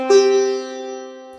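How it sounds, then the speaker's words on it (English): A single sustained note sounding Pa (Panchama), the fifth of the Indian scale, struck clearly then held with rich, steady harmonics slowly fading, with no voices. "Pushing it further still, we get Pa, which is Panchama. It means the 5th."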